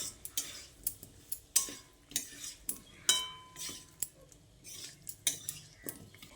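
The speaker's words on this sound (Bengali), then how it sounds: "ডাঁটাগুলো দিয়ে মশলার সঙ্গে বেশ খানিকক্ষণ ধরে কষিয়ে নিতে হবে" Drumstick pieces being stir-fried with spices in a pan over a low flame, with a soft sizzle beneath repeated metallic scrapes and clinks of a spatula at an uneven rhythm.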